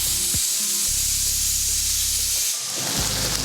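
Loud, continuous hiss of steam venting from a pressure cooker, with low rumbling bursts beneath it that stop and restart.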